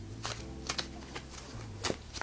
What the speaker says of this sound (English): So troop cards, buildings and command cards, they all make the assets deck, which we shuffle very well together